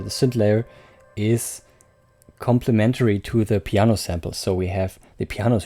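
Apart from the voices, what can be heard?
None of the usual background noises is heard.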